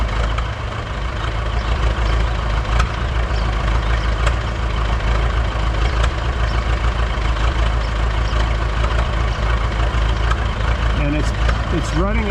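Buda D175 diesel engine running on 100% biodiesel, a loud continuous low rumble with steady rhythmic knocking, close and unbroken, someone speaking over it.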